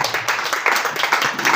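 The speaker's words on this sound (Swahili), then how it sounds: "Pigia Yesu makofi mazuri" Church congregation clapping their hands in praise, a dense ongoing patter of many hands, loud and close.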